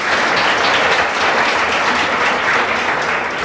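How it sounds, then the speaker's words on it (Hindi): Loud, sustained applause from a classroom audience, dense continuous clapping held at an even level from start to finish, with no talking heard over it. "एक बार जोरदार तालियां हो जाए"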